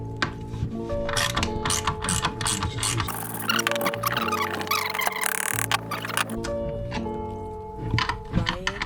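An open-ended socket wrench ratchets steadily as it loosens the motor of an electric scooter, a close, loud run of rapid clicking bursts with brief pauses and whirring in between.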